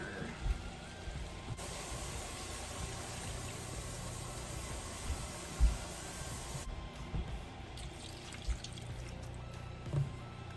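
Water pours into browning meat for a shepherd's pie, a soft hissing splash that runs for several seconds, then fades to quiet pan noises with a few light knocks.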